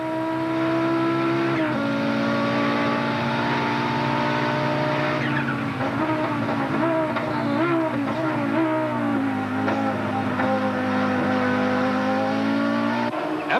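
A race car engine rings through an on-board camera in a 1992 Wesbank Modifieds race at Killarney, loud and constant, with pitch dropping and climbing through shifts and corners and tire squeal mixed in.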